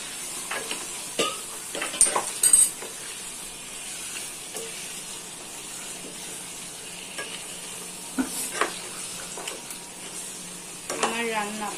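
Eggplant frying in a pan is stirred in bursts, with a spoon scraping and clinking against the metal over a soft, steady sizzle, and busier stirring near the start and the end.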